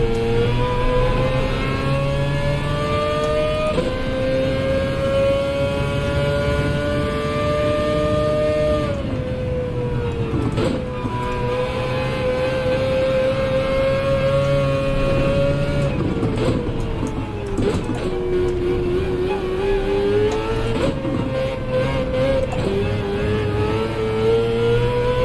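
Race car engine heard from the cockpit in the Gran Turismo racing game, a loud continuous whine rising and falling in pitch through repeated upshifts and lifts, steady and close throughout.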